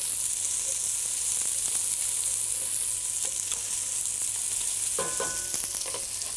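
Onions sizzle loudly and steadily in a hot pan for a Tuscan Italian dish, a dense continuous hiss with a few clinks and scrapes near the end, close up and without talking.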